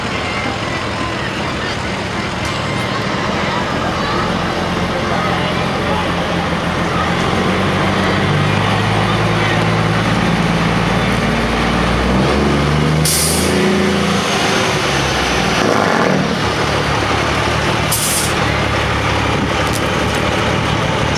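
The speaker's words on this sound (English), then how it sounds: "It's a 1954 Super MTA Farmall." A 1954 Super MTA Farmall tractor passing in a town parade, a loud, steady, low engine rumble under outdoor crowd and traffic noise, with two sharp hissing bursts partway through.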